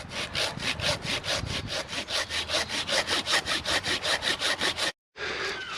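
Hand saw cutting through wood at a bushcraft camp, in quick, steady back-and-forth strokes, close up, pausing briefly near the end before starting again.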